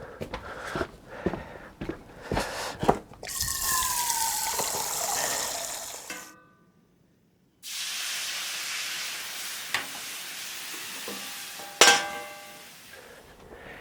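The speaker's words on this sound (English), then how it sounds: "So I'm getting my water from the hose." Water from a garden hose gushes in a steady hissing stream on a freezing day, stops briefly, then flows again, preceded by a few knocks and clatters nearby.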